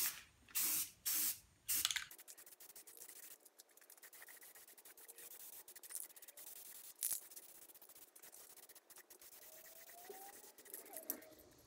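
Spray paint hissing in short bursts as the final coat goes onto an Atlas 73 drill press head, a few loud close sprays at the start followed by softer intermittent hiss and faint shop rustle.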